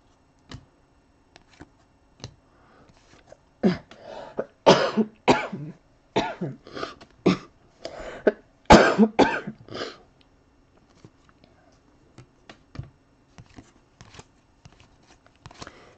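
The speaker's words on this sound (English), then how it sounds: "Sorry, there's still a little lingering cough." A lingering cough comes in a string of sharp, close bursts clustered in the middle, with a few lighter throat sounds and ticks before and after, and no talking.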